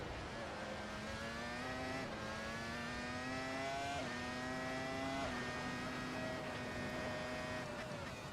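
A 1999 Formula 1 race car engine in the video game Assetto Corsa screams at high revs. Its pitch climbs steadily through successive gear changes, each marked by a brief dip, and it stays loud and continuous throughout.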